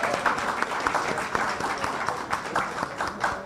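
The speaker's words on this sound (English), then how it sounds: "a round of applause to Team UE, Mona." Applause for the winning team at a college debate match, with a crowd of hands clapping steadily and densely for a few seconds, close and fairly loud.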